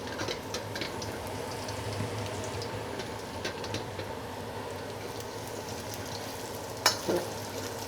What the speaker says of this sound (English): I'm just gonna let that garlic sizzle in that oil, cooking the garlic, flavoring the oil.